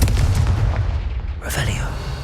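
A booming spell explosion in a Harry Potter video game bursts loudly at the start, with deep rumbling low end that decays. A second sharper burst follows about a second and a half later.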